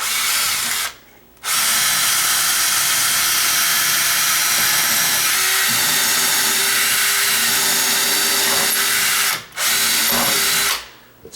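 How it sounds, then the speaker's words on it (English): A power drill whines loudly and continuously as it bores into a sagging double door, stopping briefly near the start and twice near the end as the bit is pulled out, close by with no talk. "So I put the drill in there about halfway, and once I get about half, I pull it out to clean it off the bit."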